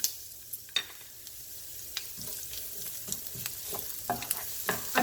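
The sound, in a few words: chopped onion sautéing and sizzling in a pan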